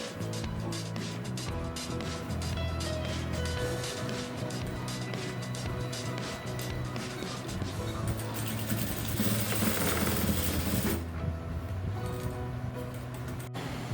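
A sewing machine stitching the drawstring on a skirt runs in a steady, continuous whir with rapid needle chatter, close and loud, then slows and stops near the end.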